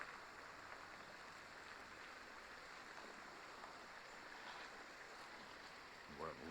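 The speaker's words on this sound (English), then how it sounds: "I don't know if you can hear the water raging in the background." Water rushes through Reedy Creek in a steady, faint broadband wash, distant and continuous behind the scene for several seconds.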